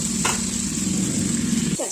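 Potatoes and eggplant sizzling in hot mustard oil with black cumin seeds, a steady close frying hiss under a brief clatter of a spoon near the end.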